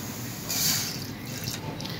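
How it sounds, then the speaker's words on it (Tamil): Water poured into a cooking pot of chopped grapes for a grape banana ice pop, a short splashing pour that swells briefly then settles into light trickling, heard alone. "அரை டம்ளர் அளவுக்கு தண்ணி ஊற்றி அடுப்பில் வச்சிடலாங்க"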